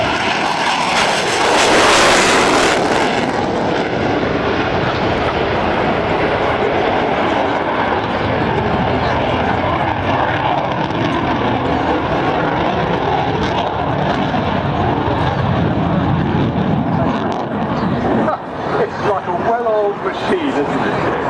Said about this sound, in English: there's a tornado just taking off